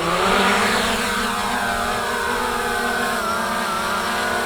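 A Hubsan Zino 2 drone lifts off on auto takeoff, its propellers rising into a steady high whine and whir that holds close and continuous.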